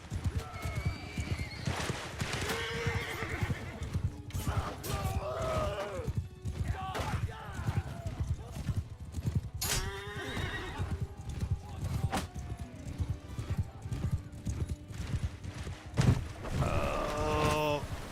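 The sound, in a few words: horses galloping and neighing in Bannerlord video game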